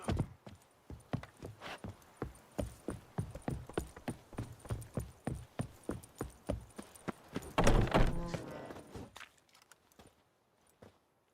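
Hooves of Roach, a horse in The Witcher 3, clop in a steady rapid rhythm, close and clear, then swell into a louder rumbling burst before fading to near silence.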